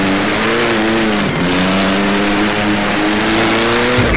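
The engine of a 1937 Grand Prix race car in rFactor revs hard and close. Its pitch climbs steadily, dips briefly at a gear change, then rises again in a loud, continuous snarl.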